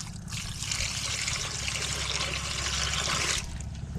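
Water runs in a steady close splashing trickle, a dense hiss that holds level over a low background rumble until it eases slightly near the end.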